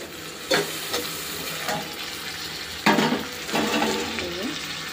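Fish curry sizzles in a pan on a home kitchen stove, a steady low frying hiss broken by several sharp scrapes and clinks of a spatula stirring against the metal.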